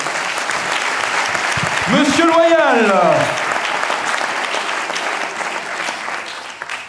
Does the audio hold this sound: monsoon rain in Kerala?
no